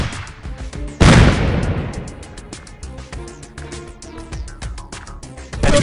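A frag grenade in a tactical shooter detonates with a sudden loud boom that decays into rumbling debris, followed by a flurry of sharp gunfire and another heavy burst near the end.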